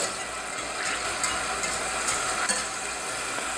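Butter melting in a pan on the hob gives a steady soft sizzle, with faint scraping clicks from stirring now and then. No one speaks.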